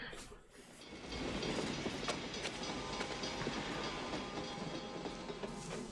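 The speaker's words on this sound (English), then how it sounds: "That looked like they actually ran over a car with a train." A train rumbles past with clattering wheels and metallic screeching in a movie scene where a locomotive plows over a car, the din loud, dense and sustained throughout.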